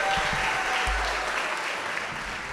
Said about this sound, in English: Okay, we can clap for that round